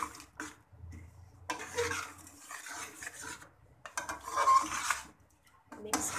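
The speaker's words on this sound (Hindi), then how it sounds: "मिक्स कर लेंगे अच्छे से" Stirring yogurt and cream into beef karahi in a pot, with bursts of spoon scraping and clinking against the metal separated by quiet pauses, close and moderately loud.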